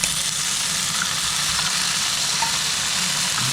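Canned tuna dropped into a pan of crispy fried garlic and onion, giving a steady, close, broadband sizzle that holds evenly from start to finish with no talk over it.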